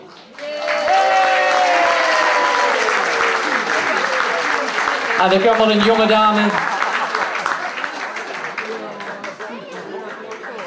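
Audience applause at a youth carnival speech-contest prize ceremony in the Netherlands, honouring the second-placed children's dance group; sustained loud clapping from a hall crowd, with someone speaking over it through a PA.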